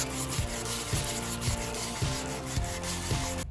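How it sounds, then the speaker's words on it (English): Corners of car body panels on a VG Commodore ute restoration are sanded by hand in a steady, close, rhythmic rasping with strokes about every half second. "I'm currently just sanding the corners, these thingies"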